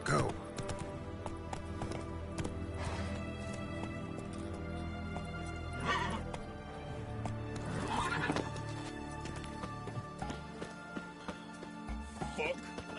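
Horse hooves clatter steadily in The Witcher 3 game while the animal whinnies a few times, mixed with in-game music and ambient noise, with someone speaking over it.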